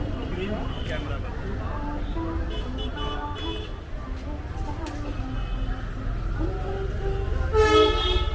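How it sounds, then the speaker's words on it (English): Busy station ambience at Old Delhi railway station, with a train's horn tooting near the end over steady rumbling, crowd chatter and voices throughout. "the old Delhi railway station that used to be, up until 1956, the biggest or principal train station in Delhi"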